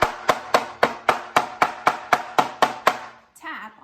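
A hammer taps firmly on layered paper to make chlorophyll prints, about eleven sharp, evenly spaced knocks close by, followed by a brief voice at the end.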